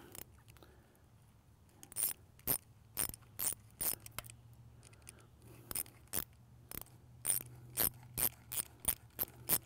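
A socket ratchet tightens a sprinkler fitting, a quick series of sharp clicking bursts that starts sparse and grows into a brisk, fairly regular rhythm, close and clear against a quiet background.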